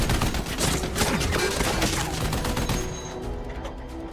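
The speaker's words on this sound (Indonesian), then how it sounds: "kabur dengan membopong salah satu anak buah Bruno sebagai tameng dari rentetan tembakan" A film battle scene carries a dense, sustained burst of rapid gunfire, loud and continuous for a few seconds before easing slightly at the end.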